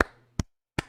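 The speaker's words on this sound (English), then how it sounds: "I clap." Three sharp, close claps ring out at an even pace, each a crisp isolated slap separated by silence.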